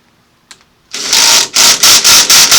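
An electric impact tool buzzes on a flywheel bolt of a Carbide motor, loud and close, after a faint click, giving a series of rapid rattling bursts.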